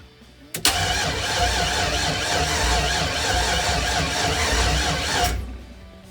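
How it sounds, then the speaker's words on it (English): Fuel pump priming in a G30 van with an LS engine swap, a loud, steady mechanical whir that starts abruptly, holds for about five seconds, then cuts off. "Fuel pump's going"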